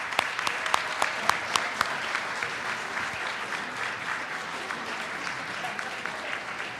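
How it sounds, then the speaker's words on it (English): An audience applauds a community service award recipient at a mayor's awards ceremony, steady clapping throughout with a few sharper nearby claps early on. "Please help me give Ms."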